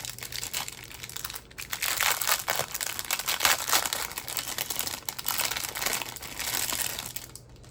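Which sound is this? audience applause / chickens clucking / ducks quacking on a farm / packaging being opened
packaging being opened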